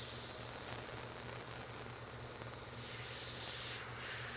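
An airbrush sprays paint onto a motorcycle tank with a steady, close airy hiss that swells slightly in short bursts, alone without talk over a low background hum.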